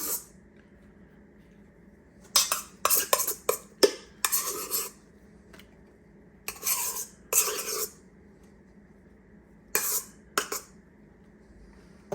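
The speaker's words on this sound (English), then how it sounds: "Now we're going to top this while it's still hot with our egg whites." A spoon scrapes and spreads egg whites over a hot sour cream raisin pie, with several bursts of close scraping and clinking separated by quiet pauses.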